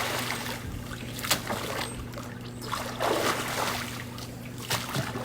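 Water trickles and pours into plastic water weights being filled, a continuous gurgling wash with a few sharper splashes and knocks, over a steady low hum.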